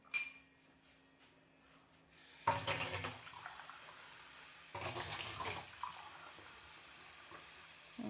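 Drinking water pours from a tap in quiet bursts, a faint hiss followed by two louder splashing runs of water a couple of seconds apart.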